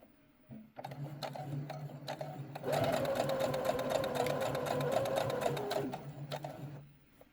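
A sewing machine stitches the fabric lining of a crocheted heart tote bag, a fast steady mechanical whirr with rapid ticking that runs loud for several seconds, with slower starts before and after, close and without talk.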